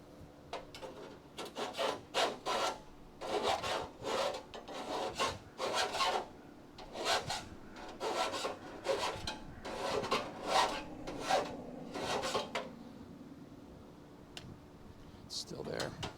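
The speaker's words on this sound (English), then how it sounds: "I'm just filing the burr off so we don't burn through that" A hand file rasps the burr off thick steel on a Crew Cab Charger under restoration, in a run of about a dozen separate strokes. The strokes are close and even-paced, then stop toward the end.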